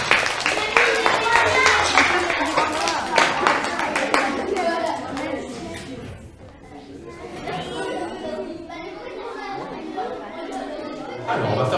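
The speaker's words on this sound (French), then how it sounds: "On applaudit bien fort Lilou, incroyable." Audience at a magic show clapping for a young girl, with a burst of applause over the first few seconds and then lively chatter and children's voices carrying on.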